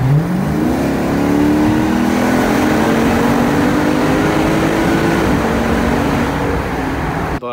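A Dodge Charger with Flowmaster exhaust and shorty headers revs steadily, its engine note climbing and holding in a loud, continuous drone for several seconds before cutting off abruptly.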